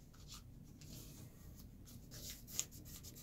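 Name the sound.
paper being creased while folding an origami tulip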